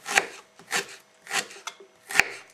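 A knife chops firm ginger on a cutting board, four crisp, separate strikes at an uneven pace, close and distinct with short pauses between them and no voices.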